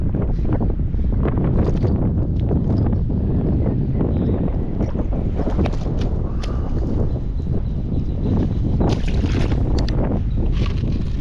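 Constant wind buffets the microphone aboard a fishing boat during fall tautog fishing off New Jersey, a loud, unbroken low roar with faint knocks and rustles throughout.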